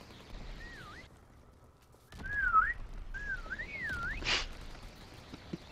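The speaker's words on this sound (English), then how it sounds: "There's your whistle." Several rising and falling whistle tunes play as a taunt in World War 2 Prop Hunt, clear and fairly loud, separated by short gaps and accompanied by light game noise and a brief burst of static.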